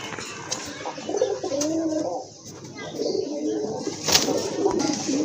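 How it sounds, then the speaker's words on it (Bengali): Pair of pigeons cooing close by, several soft throaty rolling coos in a loose rhythm over background noise, with a pause near the middle. "দেখেন মাশাআল্লাহ কত সুন্দর এক জোড়া কবুতর"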